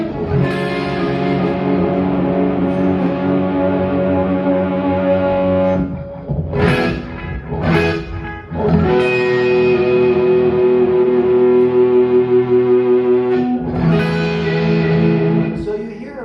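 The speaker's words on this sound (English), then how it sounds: "you hear the different textures of the distortion on each side" Electric guitar runs through Axe-Fx amp models panned hard left and right, loud sustained distorted chords with rich harmonics, broken by short choppy gaps and bursts before ringing out again.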